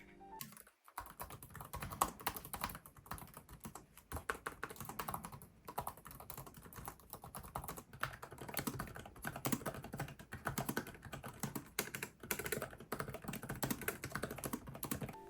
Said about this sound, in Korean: 그램 프로의 키보드는 키 트래블이 얕은 것도 얕은 거지만 도각도각거리는 느낌보다는 좀 찌걱거리는 느낌이 들어서